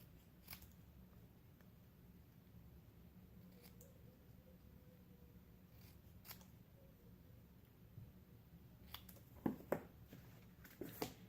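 Scissors snip a small scrap of paper cut out as a greeting piece for a handmade card, sparse quiet clicks and cuts in a still room, a little busier toward the end, with no talking.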